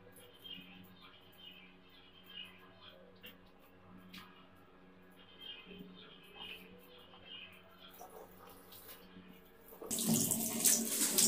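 Water splashes from a tap as hands are washed for wudu, with soft intermittent trickles at first and then a loud, steady rush of running water near the end.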